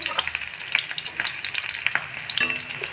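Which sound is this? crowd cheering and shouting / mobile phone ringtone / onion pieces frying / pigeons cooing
onion pieces frying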